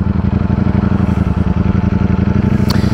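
Ducati Streetfighter V4 motorcycle engine running steadily with a rapid, throbbing low rumble, heard up close and loud throughout without any speech.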